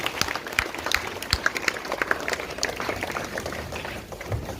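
Scattered applause from students at a school morning assembly, with uneven claps that rise and thin out across the clip, moderately near and with no talk over them.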